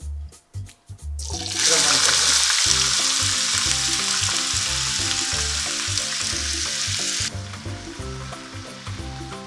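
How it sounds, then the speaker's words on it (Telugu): Onions drop into hot oil with a sudden loud hiss that sizzles steadily for several seconds before easing, preceded by a few knocks and clinks of the pan, close up. "ఫస్ట్ ఆనియన్స్ వేసుకుందాం."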